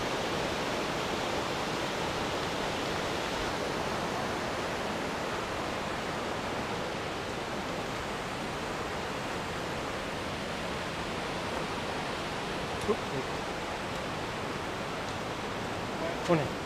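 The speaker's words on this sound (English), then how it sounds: "we're just coming up upon another waterfall here" A steady, broadband rush of a waterfall on the East Lyn in Exmoor roars continuously, with a couple of faint clicks near the end.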